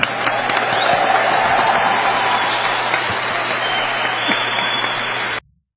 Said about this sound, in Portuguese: E é aplaudido.